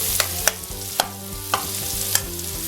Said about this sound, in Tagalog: Dapat tinudurog-durog para yung katas ng kamatis talagang makukan.